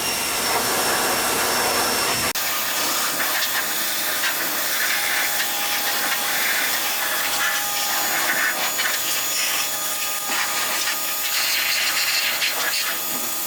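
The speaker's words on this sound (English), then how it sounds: "So I'm gonna start pressure washing it." Pressure washer blasting the chassis of a Ford truck getting a 6.4 Cummins swap, heard as a loud, continuous, roaring spray with shifting texture as the jet moves across surfaces and no clear talk.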